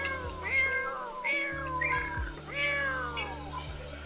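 Several cats in The Sims 4 meow repeatedly, with about four drawn-out, close, clear cries one after another over quiet game ambience.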